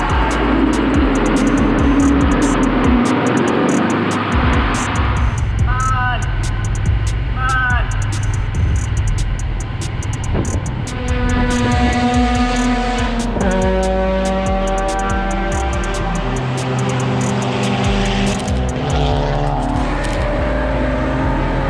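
GLTC race cars circle Road America under a constant roar of engines, with cars passing by and shifting through gears at varying distances, and people talk over the noise at times.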